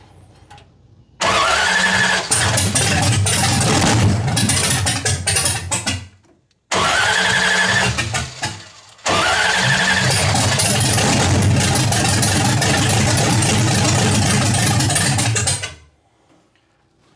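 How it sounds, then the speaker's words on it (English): A 1966 Ford Mustang V8 engine with timing problems cranks and catches, cuts out, restarts twice, then settles into a loud, rough, rumbling idle before shutting off. "basically the engine is running"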